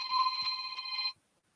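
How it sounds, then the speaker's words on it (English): A mobile phone rings loudly with a bright electronic tone for about a second, then cuts off into silence. "your phone loud as shit"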